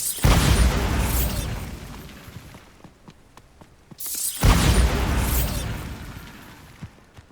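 Bombarda explosion spell in Hogwarts Legacy, heard as two loud, close booming blasts about four seconds apart, each with a crackling, rumbling tail that fades, and small debris clicks in between.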